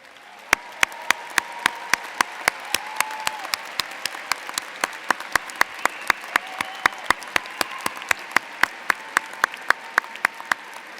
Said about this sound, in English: let's give them a big round of applause and recognition as well